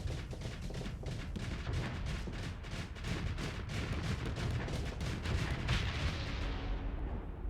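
Rapid, continuous weapons fire from AI-controlled ships in a spacefaring game, a dense barrage of repeated bursts and booms that stays loud and steady throughout with no pauses.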